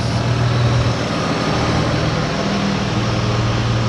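A 2004 Ford Escape with the 3.0 engine runs steadily, a continuous low exhaust rumble close by, even and unbroken with no voices.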